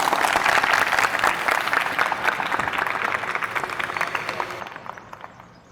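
A crowd applauds at a college gathering as a new general secretary is invited to the mic. The clapping is dense and loud at first, then thins and fades away toward the end.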